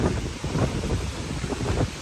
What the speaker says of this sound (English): it's extremely windy for some reason